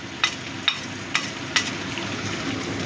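Ground mustard, poppy seed, cumin, ginger, garlic and onion paste goes into a frying pan, giving a soft steady sizzle with four short sharp clicks early on, close and moderately quiet.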